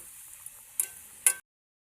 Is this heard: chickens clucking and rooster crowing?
no